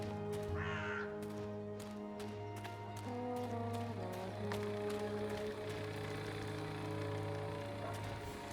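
A talking crow caws in Dreamfall Chapters, with a distinct cry near the start over a steady bed of sustained ambient music and light rain-like patter.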